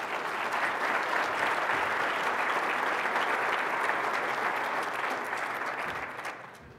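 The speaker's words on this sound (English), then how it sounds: "one final round of applause to our thought-provoking panel, Bruce, Linda, Stephen, Tim" Sustained audience applause at a manufacturing business breakfast panel, a dense, even wash of many hands clapping for several seconds before tapering off at the end.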